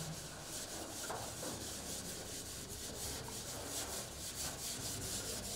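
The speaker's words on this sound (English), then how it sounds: "I will rub the board." A classroom board is rubbed clean with steady, continuous scrubbing strokes, faint and close, with no talking.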